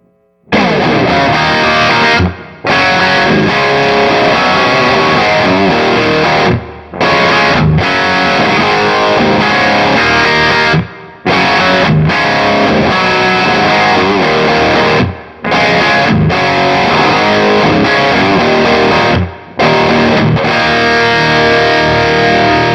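Aggressive overdriven electric guitar lead through a Kemper profile of a Dumble amp, loud and continuous, with dense distorted phrases broken by a few brief gaps.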